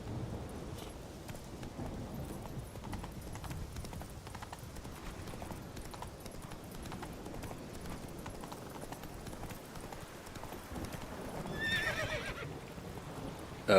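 In The Witcher video game, the horse Roach trots with steady hoof clip-clops and gives a neigh, heard faintly and evenly against a low game background.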